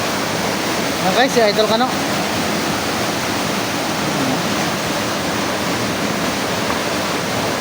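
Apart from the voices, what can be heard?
Duyom waterfall in San Agustin, Romblon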